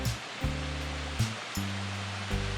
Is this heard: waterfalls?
yes